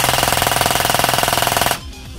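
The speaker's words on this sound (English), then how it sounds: "But here is your test fire." An A&K MK43 airsoft machine gun fitted with a MOSFET and heavier-gauge wiring rattles off a loud, fast, evenly spaced burst for nearly two seconds, then cuts off abruptly, leaving faint echoing room tone.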